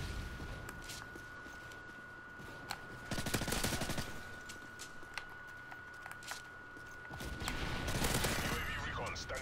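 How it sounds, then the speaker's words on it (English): Heavy machine gun fire from Call of Duty Modern Warfare 3 gameplay, with bursts of rapid automatic shots and scattered single reports over a steady game-ambience hum and a constant high tone. "That guy with his big heavy machine gun."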